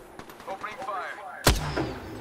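Gunfire in the battle-royale shooter Apex Legends, with a steady patter of shots building to one loud, sharp blast near the middle, then a trailing rumble and more scattered fire.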